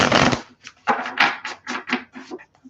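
Tarot cards are shuffled by hand in a series of quick, close riffling bursts: one long opening rustle followed by about eight shorter papery flutters at an irregular rhythm, with no talk.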